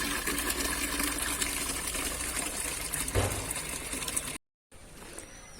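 Water runs steadily from a damaged, holed pipe at a home, spilling in a continuous hissing gush before a short break, then resuming more faintly.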